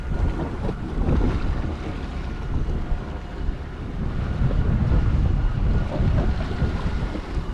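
A boat engine rumbles low and steady as the hull moves slowly through oily, slick-looking water, with gusty wind buffeting the microphone.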